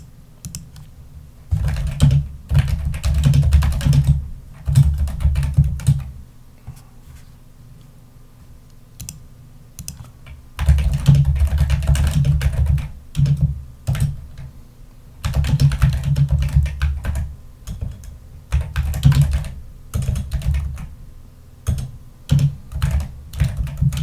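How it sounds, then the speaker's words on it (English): Rapid typing on a computer keyboard during an art stream, sounding as loud, close clattering bursts of keystrokes separated by short quiet gaps, with no one talking. "this keyboard sounds like it's, and the way I'm typing it sounds like I'm like super, super fast."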